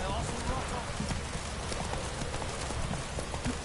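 Rapid clip-clop of a horse's hooves in the Witcher 3 video game, a dense continuous galloping rhythm under game ambience and speech.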